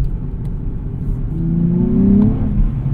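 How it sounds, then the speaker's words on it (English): A 2024 Nissan Z's engine revs up from idle, its pitch climbing and holding briefly before easing off, loud and close with no talking. "Gotta rev it up to get a little bit of power."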